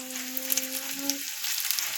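Colocasia leaf rolls (alu vadi) fry in hot oil on a pan, giving a steady close crackling sizzle, with a brief tonal hum early on.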